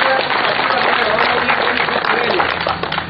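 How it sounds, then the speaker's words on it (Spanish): A crowd of farmers and officials at an outdoor meeting applauds with dense, steady clapping that holds for several seconds before thinning slightly, with voices mixed in. "un aplauso para él"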